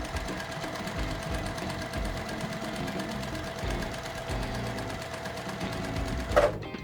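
Sewing machine joining quilt rows, a continuous close, even motor whir with rapid needle rhythm running the whole time and a faint click near the end.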